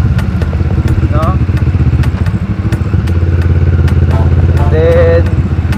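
A CFMoto MT650 motorcycle engine while riding, a steady loud rumbling drone with rapid pulsing beats and occasional clatter, continuous throughout with brief faint voice-like tones over it.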